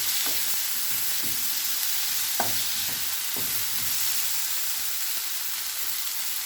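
Chopped tomatoes and green chillies fry in a pan for an omelette, giving a continuous close sizzle broken by a few short scraping stirs and soft spoon taps, with no one speaking.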